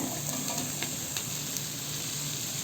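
Fried chicken pieces, already coated in chicken 65 masala and fried, tossed into a pan of fried rice, giving a steady close sizzle with light stirring scrapes throughout and no voices.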